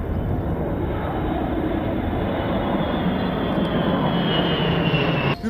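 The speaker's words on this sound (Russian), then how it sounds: "Выделяется на фоне остальных своей грациозностью и мощью гигант самолет дальнего радиолокационного обнаружения" A Russian A-50U airborne early warning and control aircraft passes over Hmeimim air base in Syria during a Victory Day parade rehearsal, a loud, continuous low engine roar that holds steady with no talk.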